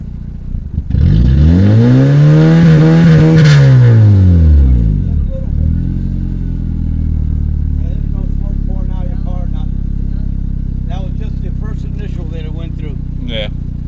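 A Honda Civic with an R18 engine, fitted with a new header and catalytic converter, idles loudly after a sweeping rev-down at the start, then settles into a steady close rumble while people talk over it.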